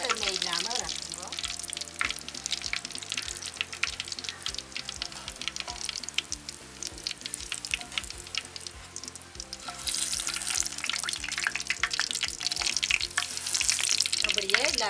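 Pieces of drumstick (moringa) deep fry in hot oil for a Jaffna-style fried curry, a dense bubbling crackle up close that rises noticeably louder and brighter partway through.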